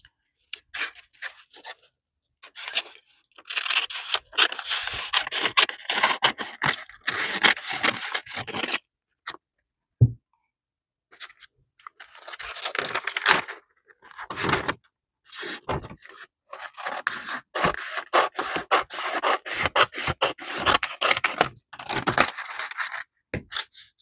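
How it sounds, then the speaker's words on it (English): Scissors snip and rasp through thin thermal fax paper, cutting out a shape in a string of close, dry crunching strokes with short pauses between runs. "I'm just going to cut this out and glue it down."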